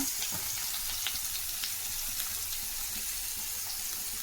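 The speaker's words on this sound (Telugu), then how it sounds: "అక్కడ అట్లా ఫిషెస్ వేసిన తర్వాత వచ్చే సౌండ్ చాలా ఫీల్ ఉంటుంది కదా" Fish frying in a pan gives a steady, close sizzle and crackle, with faint scattered pops running throughout and no voices.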